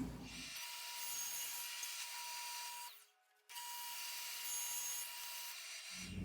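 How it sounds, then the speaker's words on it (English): Table saw cutting a wooden back panel for a cabinet to length: a loud, steady whining buzz running for several seconds, dipping briefly before resuming as the blade keeps spinning. "have the back piece set out on the table saw. So we'll just cut that off to length."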